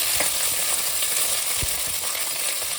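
Sliced onions and green chillies fry in hot oil for donne biryani, a steady close sizzle with light stirring clinks and scrapes, and no talking.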